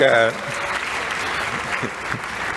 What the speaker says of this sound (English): Can we give a round of applause for the panel?